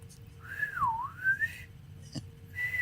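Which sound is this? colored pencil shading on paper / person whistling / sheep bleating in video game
person whistling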